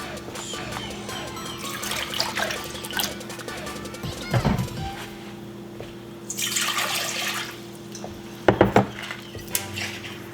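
Texas spring water poured for a pickling brine for watermelon rind, a short trickling pour among clinking dishes and utensils in a kitchen, with a hum underneath.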